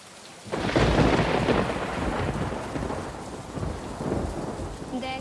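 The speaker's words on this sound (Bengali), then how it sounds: "দেখ বাহিরে কত সুন্দর বৃষ্টি হচ্ছে" Steady rain pours outside during a storm, with rumbling thunder swelling early and rolling on beneath the constant patter, loud and close throughout.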